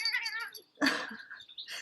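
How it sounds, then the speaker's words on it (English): A domestic cat gives a drawn-out, wavering meow at close range, then a second louder, harsher caterwaul trailing into quieter mewing. "Have a cat run across."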